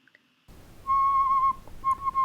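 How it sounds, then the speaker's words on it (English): A handmade clay whistle, made for a Peruvian whistling vessel, is blown in two clear tones: a steady held note, a brief pause, then a shorter second blow. It is close and fairly loud against a quiet room. "So the whistle already works."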